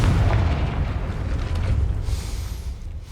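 A Confringo explosive spell goes off in the Hogwarts Legacy video game: a heavy, booming blast followed by a rolling, rumbling tail that fades over a few seconds, loud and with no voices.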